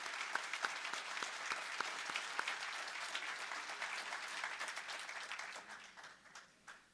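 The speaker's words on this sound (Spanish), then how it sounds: "Fuerte aplauso." A congregation at a theological debate gives sustained, dense applause that holds steady for several seconds, then thins and tapers off toward the end.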